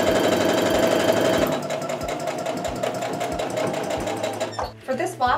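A sewing machine stitches a quilt block seam with a steady, rhythmic mechanical chatter. It runs loud and close for several seconds, then slows and stutters briefly near the end.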